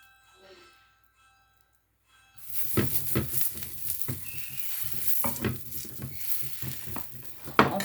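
Butter sizzles in a crêpe pan for banana crêpes. After a near-silent start, a loud, steady frying hiss begins suddenly and carries on with light scraping and clicking as the pan is coated.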